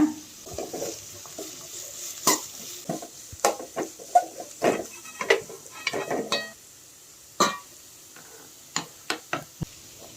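Quiet scraping and stirring taps from a spatula in a pan. The carrots and finely cut beans for chicken fried rice are being stir-fried, with intermittent clinks and a faint background hiss.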